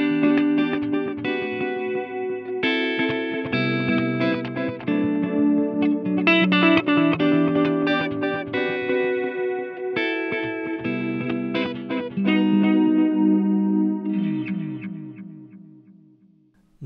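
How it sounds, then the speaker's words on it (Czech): Sustained electric guitar chords and notes run through a TC Electronic Alter Ego X4 pedal set to its Roland Space Echo tape echo simulation, with repeating delayed trails behind each strum and a lingering decaying echo tail at the end, no voices. "No a potom tady máme simulaci páskového echa Roland Space Echo."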